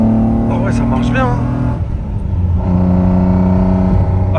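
Engine of a vintage BMW car revving and rumbling up close, steady low drone with pitch changes, while people talk excitedly over it.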